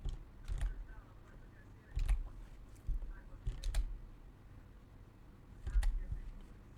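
Computer keyboard typing in short bursts of quiet clicks separated by pauses, close but faint, with no talk over it.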